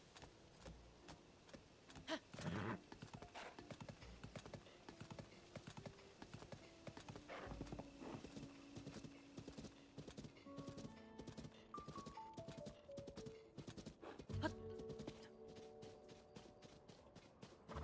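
Horse hooves in the video game Zelda: Tears of the Kingdom clip-clop steadily at a walking pace, with faint jingling and occasional synthetic tones layered over the rhythmic footfalls.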